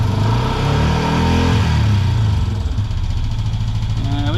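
A turbocharged Honda Pioneer 500 engine idles with a loud, close, steady rumble that fluctuates slightly, with a faint voice at the very end.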